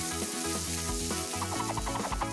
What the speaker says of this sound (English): Let's add unusual sensations. Sizzling powders.